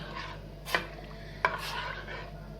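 A spoon stirs orange muhallabia thickened with starch and sugar in a pot, giving soft scraping strokes with two sharp knocks against the metal, fairly quiet with no talking.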